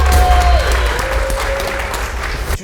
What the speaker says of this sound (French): On applaudit bien fort, les gars.